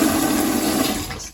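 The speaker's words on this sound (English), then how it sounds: "That's just the toilet filling up, you can hear." A toilet cistern refills with water after the supply is turned back on during plumbing work, a steady close hiss and trickle that fades away at the end.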